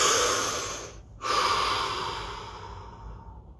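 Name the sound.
deep breathing during guided relaxation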